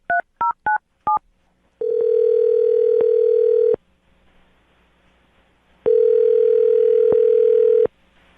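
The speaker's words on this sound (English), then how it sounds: "All right, Adam, I'm about to get her on the phone and find out if the cat allergy is real, okay?" Telephone keypad tones beep four times in quick succession, followed by two long, steady ringing tones with a pause between them, loud and clear with no voices.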